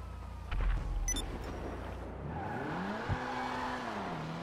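A Dinka Jester RR sports car engine in GTA 5 revs and settles into a rising and falling drone, with a clunk partway through; no talking.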